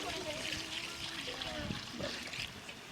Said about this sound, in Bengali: হালকা জল দিতে হবে, জলটা নিয়ে আসো তো